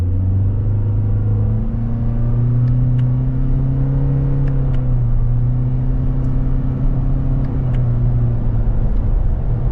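A 2024 Toyota Corolla Cross Hybrid Nightshade accelerates through simulated paddle-shifted gears. A loud, steady engine drone climbs in pitch in small steps, with no talking.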